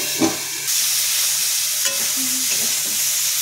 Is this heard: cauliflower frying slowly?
yes